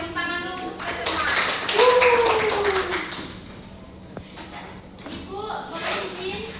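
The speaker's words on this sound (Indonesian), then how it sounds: "Oke, tepuk tangan dulu untuk semua." A classroom of students claps hands during a guidance lesson, with quick, uneven claps running under voices that talk and call out over the clapping throughout.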